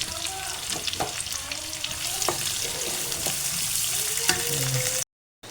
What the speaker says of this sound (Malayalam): ഉള്ളിയും എല്ലാം ഇവിടെ ചതച്ച് വെച്ചാണ് അത് ഇട്ടിട്ട് ഇതുപോലെ നല്ലപോലെ വഴറ്റിയെടുക്കണം